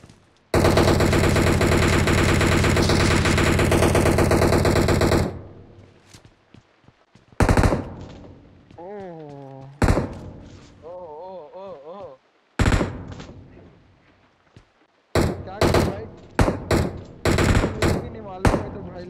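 Automatic gunfire from PUBG Mobile, a sustained loud burst of rapid shots for about five seconds, then several shorter bursts and single cracks with gaps between them, mixed with occasional speech and game tones.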